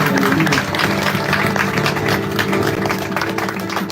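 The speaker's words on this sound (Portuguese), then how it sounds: "Dê uma salva de palmas ao Senhor." A church congregation applauds inside a tent at its inauguration, with dense, continuous clapping and crowd noise filling the space at an even, loud level throughout.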